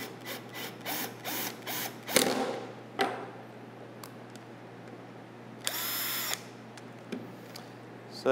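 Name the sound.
power drill backing out screws on bow riser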